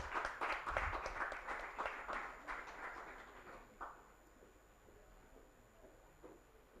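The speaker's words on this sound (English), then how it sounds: "A round of applause for Tesi" At a HealthTech summit, a modest room of attendees claps to welcome a speaker forward; the quiet, scattered clapping lasts a few seconds, then fades into a faint room hush.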